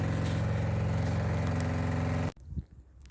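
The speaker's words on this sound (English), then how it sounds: "we've got the pump going, so I'll give that half an hour, hopefully drain that out" An engine-driven water pump runs hard while draining a flooded underground bunker, a loud steady motor drone that cuts off abruptly near the end, leaving faint knocks and rustles.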